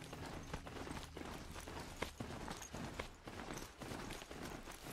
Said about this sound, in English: Be a good horsey and giddy up.